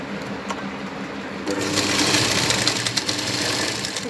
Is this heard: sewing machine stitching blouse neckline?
yes